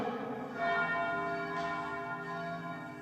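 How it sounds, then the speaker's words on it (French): Church bells ring during an Easter Vigil at a parish church, sounding a steady, overlapping peal of sustained tones without any voices. "Laissons ces cloches résonner quelques instants."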